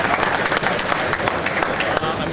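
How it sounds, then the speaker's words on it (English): Warm applause from a conference audience welcoming a speaker to the stage at a talk on the game De Blob, dense steady clapping filling the room with some voices mixed in. "a warm applause for Andrew Walker."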